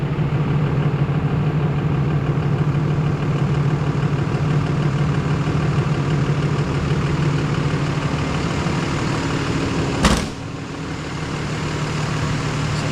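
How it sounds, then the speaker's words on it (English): A Peterbilt truck's diesel engine idles with its A/C compressor running, a steady low rumbling drone with a constant hum. A brief clunk near the end is followed by a slightly quieter idle. "There you have it. AC compressor's on."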